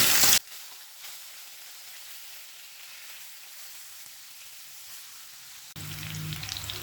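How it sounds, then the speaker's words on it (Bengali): Steady soft sizzling of fish pieces frying in oil after being turned over, a quiet continuous crackle with a louder burst at the start and again near the end. "এবার উল্টে দিয়ে অপর সাইডটা ভেজে নেব"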